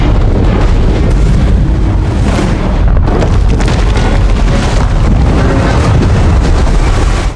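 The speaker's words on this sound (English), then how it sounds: "With a thunderous explosion," Explosives detonated beside the sea go off in a loud, thunderous blast that rolls on as a dense, sustained rumble for the full length, with no voices.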